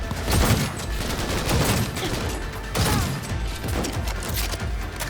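Gunfire in the video game Cyberpunk 2077, loud rapid automatic bursts with mechanical clatter, continuous and close throughout.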